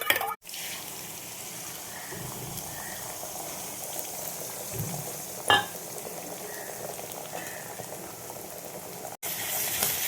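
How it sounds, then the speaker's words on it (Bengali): Two eggs frying in oil in a pan, a soft continuous bubbling sizzle heard close and fairly quiet, with an occasional clink from a utensil. "এইভাবে আমি ভেজে নেব ডিমটাকে"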